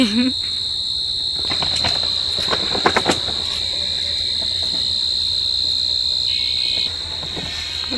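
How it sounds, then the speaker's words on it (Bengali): Crickets in a village at evening keep up a steady, high, continuous drone throughout, with a few faint scattered knocks and noises in the background. "ঝিঝি পোকায় ডাকতেছে"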